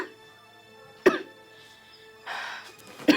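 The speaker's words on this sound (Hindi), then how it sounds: "मम्मी जी खांसी ज्यादा हो रही है क्या?" An elderly woman, short of breath, gives two sharp coughs about two seconds apart, with a rougher throaty burst in between, in a quiet room.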